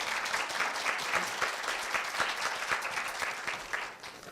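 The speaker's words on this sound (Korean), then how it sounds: "큰 박수 부탁드립니다." Loud, sustained applause from a sizable crowd at a middle school speech festival at Korea University, clapping continuously before tapering slightly at the end.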